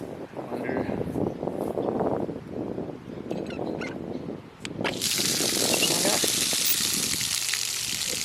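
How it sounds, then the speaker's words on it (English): An outdoor water spigot on a farm is opened, and water rushes out in a loud, steady hiss after a stretch of nearby talking. "Water spigot."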